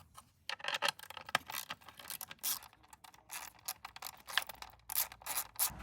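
A 10mm socket ratchet clicks in quick uneven bursts while loosening air box bolts on a Yamaha FZ6 motorcycle, faint and close with short pauses between strokes.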